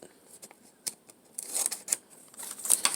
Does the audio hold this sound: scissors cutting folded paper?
yes